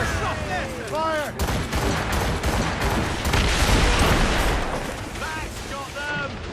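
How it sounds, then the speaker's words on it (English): Cannon and musket fire in a naval battle in the video game Assassin's Creed Rogue, with heavy booming volleys and crackling shots rolling almost continuously, loud and close, while voices shout over the din. "Enemies firing!"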